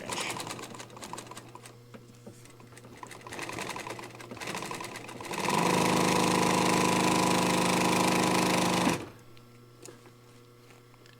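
A Juki sewing machine stitches at 32 stitches per inch, its motor rising from a slow, uneven clatter into a loud, steady whirring run for a few seconds before stopping abruptly, leaving a quiet hum.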